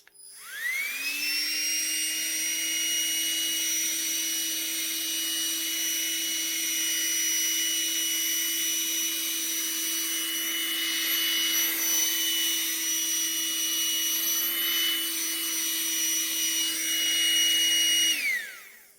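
A Nitecore BB Nano electronic blower from a vacuum cleaning kit runs on its first speed: a steady, high-pitched motor whine spins up, holds evenly for about seventeen seconds, then winds down, with no talking.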